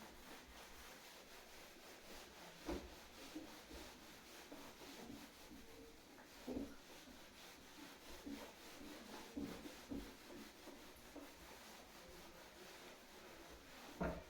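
Someone rubs writing off a board during an English grammar lesson, with faint, steady back-and-forth scrubbing strokes and a few louder swipes across a quiet room.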